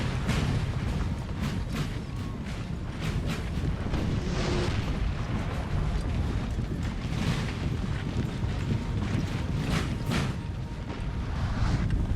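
A continuous artillery bombardment in the Napoleon Total War video game, rolling low rumble with repeated cannon blasts spread throughout, dense and steady with no pauses.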